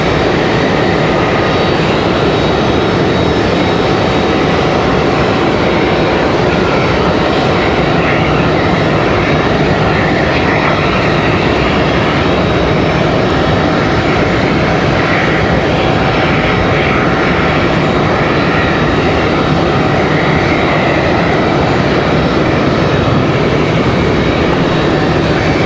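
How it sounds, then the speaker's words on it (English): An Envoy regional jet from Chicago arriving at Raleigh-Durham International Airport, a loud, continuous engine roar and rushing whine holding steady throughout, with no voices. "Next arrival is going to be that envoy from Chicago."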